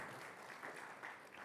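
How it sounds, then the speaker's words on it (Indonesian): A congregation claps during a Sunday church worship service; the applause is a faint, distant, steady patter of many hands with no voices over it. "Berikan tepuk tangan."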